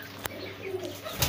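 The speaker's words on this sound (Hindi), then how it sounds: "कुछ कबूतर नीचे तो उतर आए हैं" Pigeons flap their wings as they fly down from a cage to eat, a few soft, brief flutters close by against quiet background hiss.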